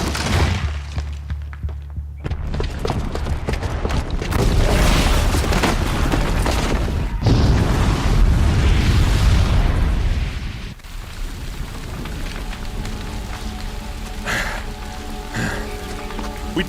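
A booby-trapped bomb going off in Horizon Zero Dawn, a heavy rumbling blast with a dense debris roar that swells, drops back, then swells again before settling into fainter game ambience.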